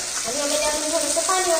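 A kadhi mixture of yogurt and gram flour is stirred in a pan, with soft liquid swishing and a faint sizzle close by, brief and continuous, while someone talks over it.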